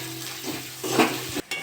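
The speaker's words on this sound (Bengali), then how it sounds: "এটা নেড়ে চেড়ে ভালো করে ভেজে নিয়েছি মশলাটা।" Ground spices with garlic paste sizzle in a pan, a brief close burst of frying with spatula scraping and one sharp knock near the end, no voices.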